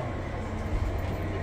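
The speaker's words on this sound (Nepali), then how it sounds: "अब ट्रेन चेन्ज गरेर हामी जुब्ली लाइन लिएर चाहिँ नि अब बोन स्ट्रिट जाँदैछौँ।" A London Underground Jubilee line train in motion gives a steady, loud low rumble and rolling drone inside the carriage, heard from on board with no clear breaks.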